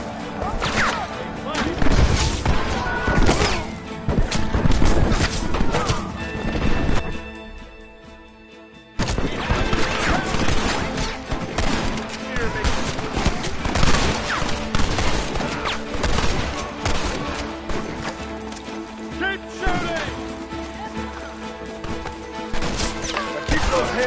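Dense gunfire from a Red Dead shootout, a nearly continuous fusillade of shots and crashes that drops out briefly partway through, with voices shouting over the barrage.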